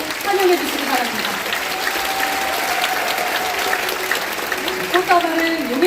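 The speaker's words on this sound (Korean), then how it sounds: "여러분 힘찬 박수로 환영해 주시기 바랍니다" An audience at a mayoral inauguration ceremony in Yongin applauds as the mayor and his wife come on stage, broad steady clapping from a large crowd held at an even level.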